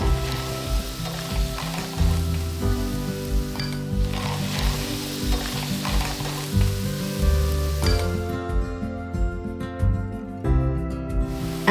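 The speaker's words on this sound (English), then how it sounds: "Stir fry to mix well." Clams stir-fried in a pan with garlic, chili and white wine make a loud, steady sizzle with scraping stirring strokes and the odd clatter of shells, heard alone without voices.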